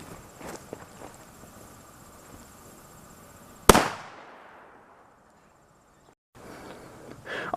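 A firecracker called a "5 bangs" is set in the ground outdoors and lit, then goes off in a single loud, sharp bang with a long fading tail. Soft footsteps and rustling come before it, and more shuffling follows.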